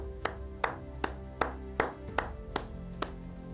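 Audience asked to applaud at an awards ceremony responds with sparse, evenly spaced claps, roughly eight sharp hits over a few seconds against a low room hum, sounding like a single pair of hands rather than a full crowd.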